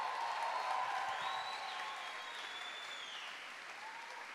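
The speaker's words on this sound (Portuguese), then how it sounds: "Pode aplaudir." A church congregation applauds during a Pentecostal sermon, a dense, steady wash of clapping from many hands that fades gradually over several seconds.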